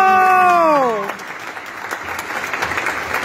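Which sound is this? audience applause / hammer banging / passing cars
audience applause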